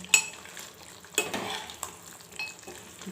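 A chicken curry in a pan is stirred after coriander is added, with a few scraping spoon strokes over a faint, soft sizzle.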